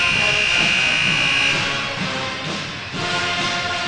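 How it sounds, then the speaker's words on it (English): A loud, sustained electronic buzzer blares through a high school basketball gym between quarters, holding a harsh steady tone for several seconds over the hum of the crowd. "The buzzer sounds"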